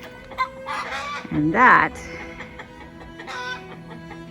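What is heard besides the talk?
chickens clucking, agitated by a nearby falcon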